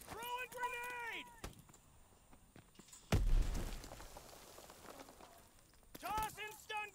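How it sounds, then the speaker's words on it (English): A grenade goes off in a multiplayer video game: one sudden, loud explosion with a rumbling tail that fades over a couple of seconds, between stretches of voice chatter. "Throw a grenade!"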